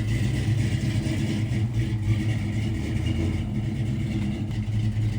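A carbureted engine in a 1967 Ford F100 truck rumbles close by with a deep, steady idle and throaty swells of revving throughout, loud and without talk.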